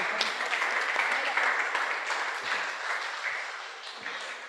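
A church congregation applauds in worship, a full, steady wash of many hands clapping in a reverberant room, gently fading toward the close with a few louder claps standing out.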